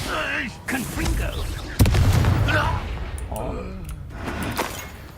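A Confringo blasting curse bursts with an explosive impact in Hogwarts Legacy, giving one sharp loud crack followed by a rumbling blast. A voice talks over and around it.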